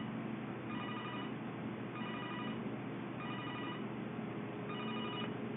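Landline telephone ringing in repeated bursts, about four short rings spaced roughly a second apart, somewhat distant and faint over a steady background hiss.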